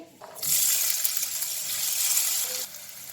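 A sudden loud sizzle bursts up as chopped onions hit hot oil in a pan, hissing steadily for a couple of seconds before dying down.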